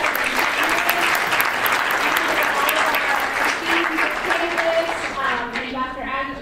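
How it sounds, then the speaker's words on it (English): An audience applauds a morning panel discussion at the 55th Annual World Affairs Institute, sustained loud clapping from a large crowd that fades slightly toward the end as voices start to come through. "Can we get one more round of applause for Christopher"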